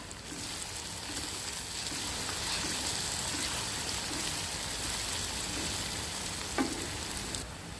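Liver masala (kaleji) fries in a pan while salt is stirred through it, giving a continuous close sizzle with soft scraping stir sounds and one short sharp clink near the end.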